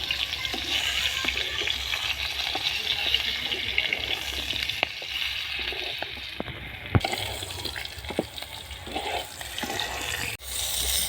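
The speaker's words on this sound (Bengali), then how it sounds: "আলুটাকে একটু লাল করে ভাজি" Cubed potatoes, with pointed gourd nearby, frying in oil until browned for a vegetarian curry: a soft, continuous hiss and bubbling sizzle, fairly quiet, with a few light scrapes and taps along the way.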